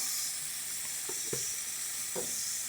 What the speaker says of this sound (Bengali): এবার এটা ভালো করে একটু নুন দিয়ে ভেজে নেব, ভালো করে ভেজে নিই।